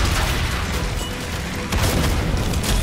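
A grenade detonates in the co-op shooter Killing Floor 2. Loud, dense booming rumbles on throughout, with a sharper blast surging midway.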